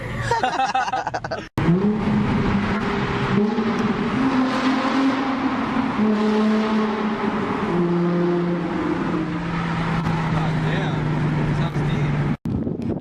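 Nissan 350Z fitted with blast pipes exhaust revs loudly and repeatedly, deep stepped engine tones rising and holding close by for most of the stretch, with people talking over it.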